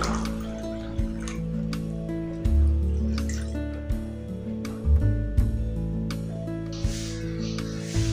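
Water is poured into a pan of amaranth greens in a home kitchen, giving soft splashing and dripping with occasional clinks over a steady low hum. No one speaks.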